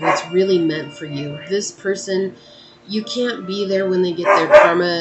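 Dogs bark in the background, short yips and barks mixed under continuous close speech, with a louder burst near the end.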